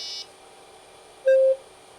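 A single short electronic beep from a computer after reboot, played through big speakers, sounds clearly over a low steady hum, preceded by a faint tone.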